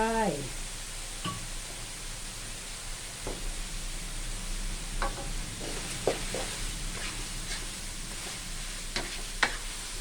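Nam prik pao chili paste stir-fried in a pan, giving a steady soft sizzle with scattered stirring scrapes and clicks over ten seconds, close by and fairly quiet, with no one talking.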